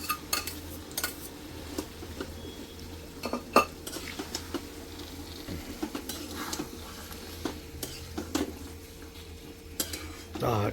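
Mashed potato, cauliflower and green peas stirred into a pan for pav bhaji, with a spoon clattering and scraping against the metal over a low sizzle and steady background hum, close and busy, with no talk.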